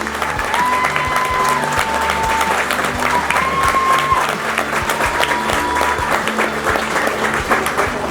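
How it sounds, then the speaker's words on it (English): Sustained applause from a large audience at an Army basic training graduation at Fort Leonard Wood, Missouri, loud and steady throughout, with a faint tone and background sound running underneath. "Please join me in a round of applause for these 3 warriors"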